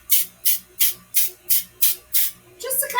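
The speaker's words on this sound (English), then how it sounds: "I am going to spray these." Cooking spray hisses onto a cupcake pan for brownies in seven short, even bursts, close and fairly loud, each fading quickly before the next, with a rougher rustle at the end.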